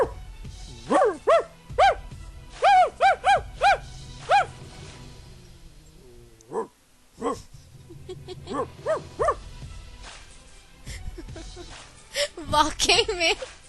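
A human voice imitates an angry dog, giving loud, sharp bark-like bursts in quick clusters with short pauses, followed by quieter growling and yelps, some laughter or talk mixed in near the end.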